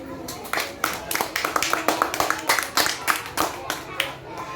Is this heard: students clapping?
yes